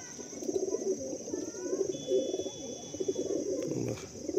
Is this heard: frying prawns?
no